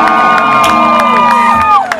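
A live concert crowd cheers, whoops and shouts loudly and continuously, with high voices rising above the roar as the audience responds to a performer's call.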